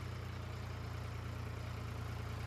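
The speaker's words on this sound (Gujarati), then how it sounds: "આ નાનું ટ્રેક્ટર જો હાવ મિની." A small mini tractor engine idles steadily at a low, even throb, close by and continuous with no voices.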